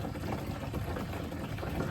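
Water running into a truck camper's tank gives a continuous rushing, bubbling gush at steady level, with no talking over it.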